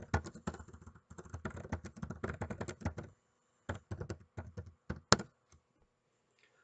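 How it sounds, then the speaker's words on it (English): Steady, fast typing on a computer keyboard, dense clicking keystrokes for a few seconds, a brief pause, then scattered taps and a sharper final key press in a quiet room. "You can also type anything else that happened here."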